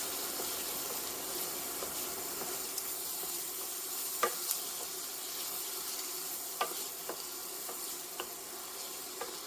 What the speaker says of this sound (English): I'm gonna stir it around because we want to make sure that we saute the mushrooms just right.